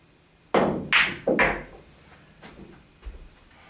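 A billiard cue strikes a ball on a pool table, followed by a quick series of crisp ball clicks and knocks that fade into fainter taps.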